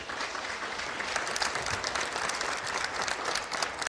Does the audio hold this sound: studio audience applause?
yes